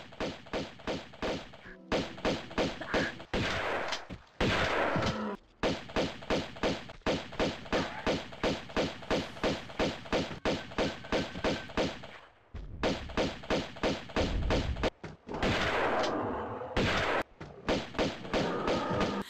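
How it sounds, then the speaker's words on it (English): Constant gunfire in the Tomb Raider II video game, a long run of evenly spaced, punchy pistol-like shots in quick rhythm, broken by a few short pauses and bursts of other game noise. "You're just constantly shooting in this game."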